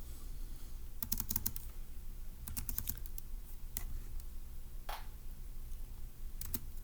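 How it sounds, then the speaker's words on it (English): Clicky bursts of typing on a computer keyboard, short clusters of keystrokes separated by pauses, close and fairly quiet with no talking. "So let's go ahead and type that up in our notes in section B."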